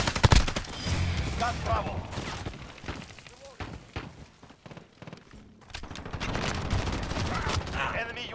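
Rapid automatic gunfire and scattered shots ring out in a Call of Duty: Modern Warfare domination match, with dense bursts at the start and end around a quieter middle, while in-game voices call out objectives.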